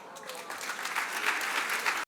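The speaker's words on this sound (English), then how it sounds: "Hold for applause" Applause at an annual preservation awards ceremony, steady clapping from an audience that swells after a soft start and holds for about two seconds before cutting off abruptly.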